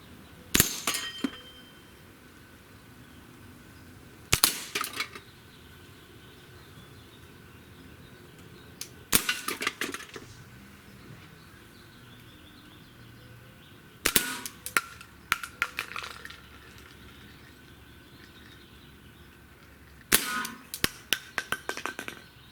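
Walther CP88 air pistol fired with a red dot sight at small targets, five sharp separate cracks spaced several seconds apart, each followed by brief clinking and rattling impacts, with quiet between shots and no talk.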